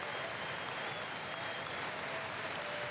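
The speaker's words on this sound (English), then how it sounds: "if you give a round of applause for these players as they come up, that'd be great." Audience applause at the 2012 Australian NBL Grand Final trophy presentation for the New Zealand Breakers and Perth Wildcats players, a dense, steady wash of clapping from a large arena crowd filling the whole stretch without pause.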